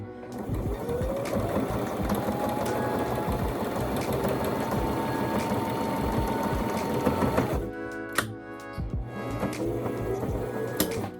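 A sewing machine running without its upper thread, a loud continuous mechanical whir with a rising tone for several seconds, then stopping and giving way to a few short stitching bursts and clicks.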